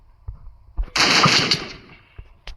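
Gunfire from a video game bursts out in a rapid automatic volley of about half a second, loud and close, with a few single muffled shots before and after it.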